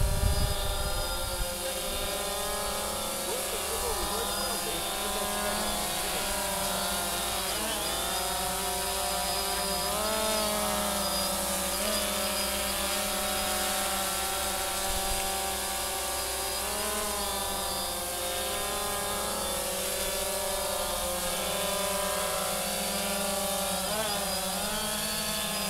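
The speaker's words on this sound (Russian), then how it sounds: "Сёма, Сёма, на другом бы коптере я так бы не рискнул снимать, блядь, и управлять." A DJI Phantom 2 quadcopter drone flies with a steady, loud, high-pitched whining buzz from its rotors that shifts pitch now and then as it maneuvers, continuous for the whole stretch with no talking.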